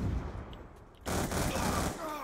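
Sustained gunfire from the Black Ops 2 video game, heavy and dense, swelling into a loud continuous barrage of overlapping shots about halfway through.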